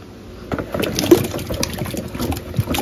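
Tap water runs and splashes while potatoes are washed in a home kitchen sink, a steady close wash of trickling and gushing with irregular clunks and knocks as the potatoes are handled.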